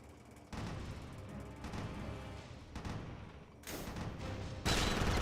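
Grenade explosions and gunfire in the arcade shooter Jurassic Park: Arcade: dense, continuous rumbling blasts and rapid fire, with sudden louder bursts of explosions toward the end.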